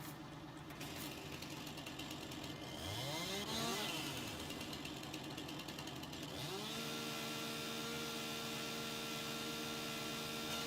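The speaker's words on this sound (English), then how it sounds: "Yeah, the turbo on that little Mac is brilliant." A small Mack truck with a turbo engine in Farming Simulator 19 revs and idles, a steady mechanical drone with rising and falling pitch sweeps as the engine spools up and settles, heard alone without talk.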